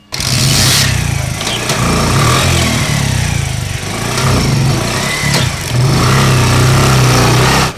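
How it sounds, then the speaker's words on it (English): A hired motorbike carrying raw milk in plastic containers to market on a rural road, its mid-pitched engine revving up and easing off in repeated surges, loud and close, with no talk. "Her best means to deliver the raw milk to the market is by hiring a motorbike"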